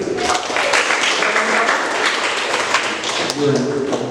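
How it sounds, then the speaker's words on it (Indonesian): Applause from participants at an Advent recollection, a steady wash of clapping lasting several seconds, loud and close, with talk starting over its tail. "Tepuk tangan dulu."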